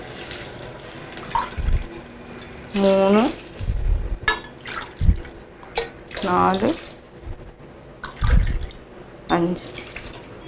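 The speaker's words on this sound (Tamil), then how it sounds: "5 கப் தண்ணி ஊற்றலாம்." Water is poured into a pan for corn rava upma, coming as several short splashing pours between bursts of a voice counting aloud.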